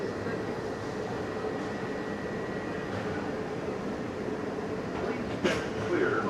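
A Walt Disney World monorail runs with a steady rumbling hum and a whine from the cabin, and a soft thump near the end, while passengers talk over it.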